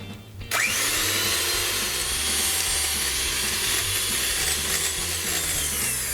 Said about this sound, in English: just whisk this until it reaches a nice firm consistency